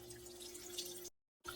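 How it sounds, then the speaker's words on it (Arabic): Water from a tap runs onto shrimp in a jar as a thin, faint steady trickle, cut off briefly near the end before resuming. "هلا راح ابدي علي المي اغمرن كلياتن هيك"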